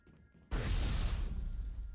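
A Mass Effect grenade goes off in an empty room: a sudden loud, close blast with a sharp onset and a heavy low-end body that rolls on as a dense, decaying rumble.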